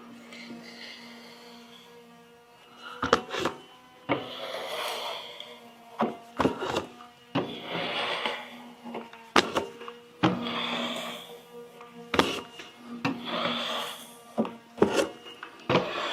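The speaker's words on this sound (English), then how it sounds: "I'm going to grab my little bucket and a putty knife and just gently take off this old finish." A putty knife scrapes softened old finish off a century-old wooden French farmhouse table, with close, irregular scraping strokes and sharp knocks separated by short pauses.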